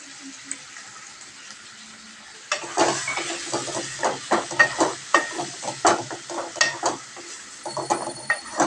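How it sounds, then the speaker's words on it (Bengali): Green chillies and other food frying in a pan at home, beginning as a quiet hiss that jumps into loud, crackling sizzle with rapid, irregular popping bursts. "এটা ভালো করে ফ্রাই হোক"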